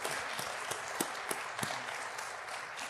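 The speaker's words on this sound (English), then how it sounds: "I want the audience to give our two panelists, our two protagonists, a big round of applause." An audience at a panel discussion on parks and green spaces in San Antonio applauds steadily, a dense wash of many hands clapping at once, with a few sharper individual claps standing out.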